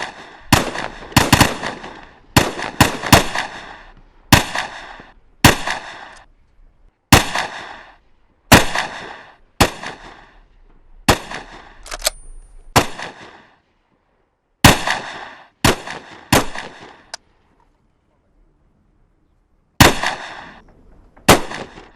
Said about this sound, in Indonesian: Tembak bebas.